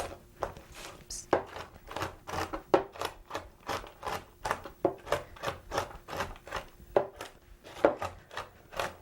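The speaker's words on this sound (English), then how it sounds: "Now, you can see I'm chopping these pretty fine." Rapid, irregular knife chops through pecans on a cutting board, crisp wooden taps repeating quickly and close by, with no talking.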